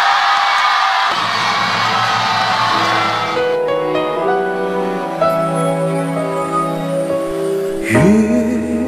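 A television studio audience cheering and whooping as a singer is introduced, a loud crowd roar for about a second and a half before music starts up and takes over, with cheering fading beneath it.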